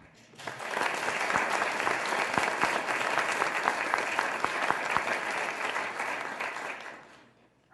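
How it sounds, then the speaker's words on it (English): A large crowd at a 2024 Youth of the Year show applauds loudly and steadily for several seconds, the clapping fading out toward the end. "One more big round of applause."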